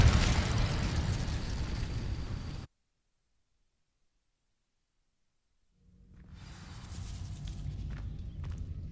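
Incendio fire spell igniting dry vines in Hogwarts Legacy: a loud roaring burst of flame that cuts to silence, then a crackling, rumbling burn swells back in.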